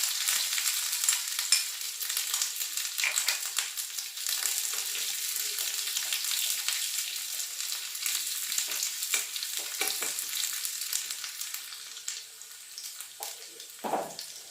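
Mustard seeds, finely chopped ginger and shallots sizzle continuously in hot frying oil, a steady crackling hiss with light stirring scrapes and a brief clatter near the end.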